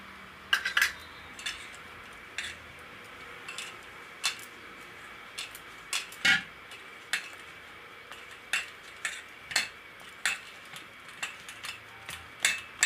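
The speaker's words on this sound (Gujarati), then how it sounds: "તો આપણે આ બધું મિક્સ કરી લેવું." A spoon mixing veggie burger patty mixture in a bowl makes scattered light clinks and taps against the dish, irregular and close, over a quiet background with no talk.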